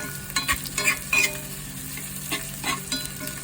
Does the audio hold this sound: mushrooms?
yes